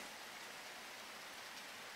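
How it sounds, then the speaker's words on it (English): Steady rain from the video game Harvest Moon DS Cute, an even soft hiss of falling drops that holds without a break throughout, with no voices. "And it's also raining"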